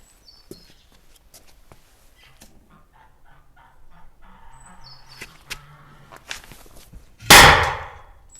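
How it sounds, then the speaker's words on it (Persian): A white capsule firecracker goes off in one sharp, loud bang near the end, after several seconds of faint clicks and rustling handling noises. "این ترقه سفیدا، کپسولی سفیدا خیلی زود میترکه"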